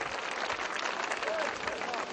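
Dense, steady audience applause at an Indian ceremony honoring a guest, a continuous wash of many hands clapping without pause, moderately loud and filling the space.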